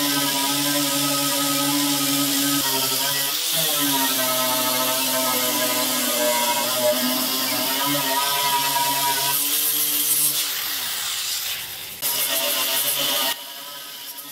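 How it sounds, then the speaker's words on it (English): An angle grinder fitted with a poly disc strips paint from a vintage garden tractor hood, a loud, steady, close whine with shifting pitch that cuts out briefly near the end. "this poly disc on this angle grinder does a great job at removing the paint pretty quickly"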